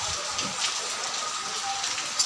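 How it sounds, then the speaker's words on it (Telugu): Heavy rain pouring down in a steady, dense hiss over a few seconds, heard from close by with no one speaking. "ఫుల్ వర్షం వస్తుంది"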